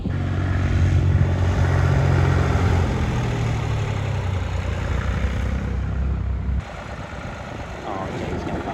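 A Zetor 4911 tractor's diesel engine, running on premium diesel, drones loudly and steadily while driving on the road, with wind buffeting the microphone; the level drops noticeably toward the end.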